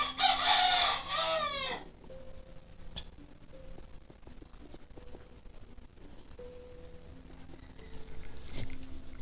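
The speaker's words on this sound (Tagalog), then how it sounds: "Yun yung mga manok." In Minecraft Pocket Edition, a rooster crows loudly at first, followed by scattered soft clucks and short chicken calls over a faint background hum.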